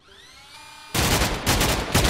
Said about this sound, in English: Jeffrey, could you stop firing the bloody minigun?